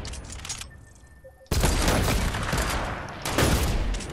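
Heavy Fortnite Battle Royale gunfire in a snipers-versus-runners match, a dense, loud barrage of shots that surges in abruptly after a brief lull and keeps pounding without pause.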